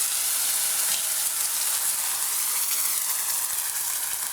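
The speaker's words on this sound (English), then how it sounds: "And now this will both sizzle and smoke," Vegetables sizzling and smoking in a pan of rendered lamb fat, a loud, steady, close frying hiss that runs unbroken throughout.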